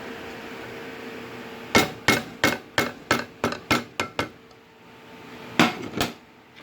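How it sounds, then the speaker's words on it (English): Metal utensil strikes against a pan while onions are scraped out, giving a quick series of about ten sharp clinks and taps in an irregular rhythm, then two more after a short pause, close and fairly loud. "Let me scrape out the rest of these onions."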